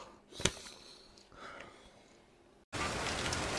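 A soft sniff and faint rustling, then heavy rain bursts in suddenly as a loud, steady hiss that continues to the end.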